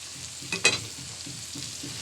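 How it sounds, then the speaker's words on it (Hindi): Okra frying with sliced onions in a pan for dhaba-style bhindi, a steady soft sizzle with a brief louder scrape or stir near the middle, close and alone. "इसके साथ अपने प्याज़ों के साथ इसको हम अब फ्राई करेंगे"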